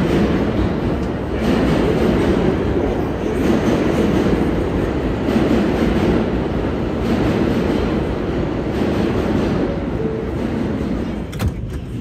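A New York City R211T C local subway train running along the tracks toward Spring Street with a continuous rumbling roar and rhythmic clatter, a brief high squeal near the end.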